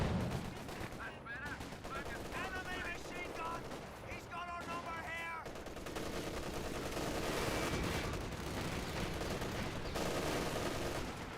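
Distant gunfire and machine-gun bursts from units firing in the video game Company of Heroes 2 rattle on continuously, with a commentator talking over the steady battle noise.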